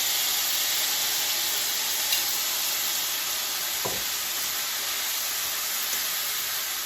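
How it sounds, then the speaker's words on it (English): Onion browning in hot grease for Mexican rice, a steady close sizzle and hiss of frying that runs throughout with no talking, plus one faint clink near the middle. "We're just gonna brown that brown the onion up real good."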